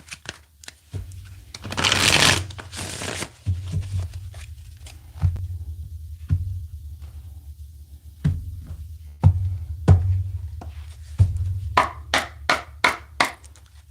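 Tarot cards being shuffled in bursts of riffling and bridging, with a long rustling riffle early on and a quick run of crisp snaps toward the end, close and fairly loud over a low steady hum.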